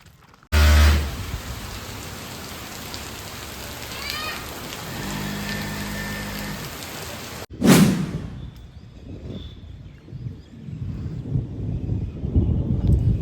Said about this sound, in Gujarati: હવે જો કેવો ફૂલ વરસાદ આવી તો ગયો જ છે.